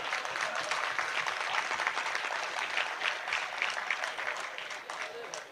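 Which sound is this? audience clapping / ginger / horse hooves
audience clapping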